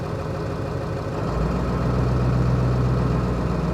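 Ford 7.3 Powerstroke diesel engine idles steadily, a loud, close, continuous low rumble that deepens slightly partway through, with no one speaking.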